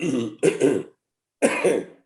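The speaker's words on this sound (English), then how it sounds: "Sorry, that's just a cough, smoker's cough." Two bursts of harsh smoker's coughing, close to the listener, with a short silence between them and no talking.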